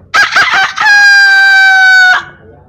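Several quick clucks lead into a loud, close rooster crow that stretches out for over a second before stopping abruptly.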